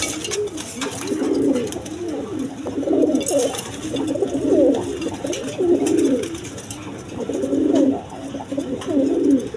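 A pair of Indian Bombay pigeons, black, coo in a steady, repeating rhythm of soft, low phrases nearby, with faint background noise.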